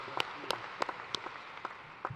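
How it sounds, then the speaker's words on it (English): Graduation audience at a university undergraduate commencement clapping, with scattered individual claps heard fairly distinctly rather than a dense roar, moderately distant and faint. "I want you all to give yourselves a hand"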